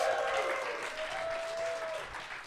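An audience at a live show in the Cutting Room, a New York music venue, applauds steadily in a dense, loud wash of clapping, with a faint sustained tone running underneath.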